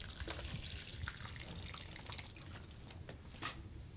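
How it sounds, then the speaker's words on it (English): Water pours from a watering can onto potato seedlings in pots indoors, a soft continuous trickle and splatter with faint drips, close and quiet. "a bit of watering from the watering can"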